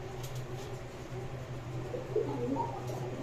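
Lakkha pigeons coo softly, a few low, brief coos rising near the end over a quiet background hum.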